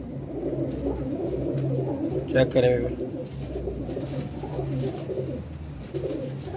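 Teddy pigeons coo in soft, low rolling calls from a loft, repeated under a voice talking over them, with a brief flutter of wings partway through.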